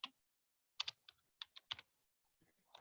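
Keys on a computer keyboard tapped in short scattered bursts, close and quiet, with pauses between clusters of keystrokes while entering text into an HTML form field.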